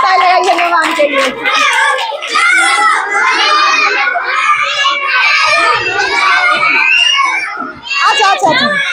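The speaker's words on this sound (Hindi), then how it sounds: "जोरदार ताली लगाइए" Children in a classroom clap loudly together, the dense clapping mixed with excited kids' voices and shouting throughout.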